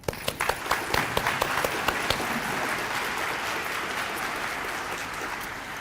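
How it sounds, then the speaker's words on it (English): An audience at an elementary school dedication bursts into applause, starting with a few sharp individual claps that quickly swell into a full, sustained round from a sizable crowd. "Let's give a round of applause to Lily McCrary for leading us in the pledges."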